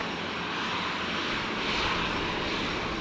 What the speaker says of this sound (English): Departure Qantas 787